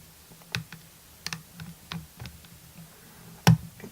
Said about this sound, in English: small click on 1, small click on 2